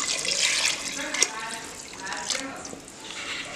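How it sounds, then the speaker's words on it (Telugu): Water pours into a pot holding two cups of rice as four cups are added, a steady splashing, rushing stream nearby. "4 cups ఆఫ్ వాటర్ అనేది నేను యాడ్ చేసుకుంటున్నాను"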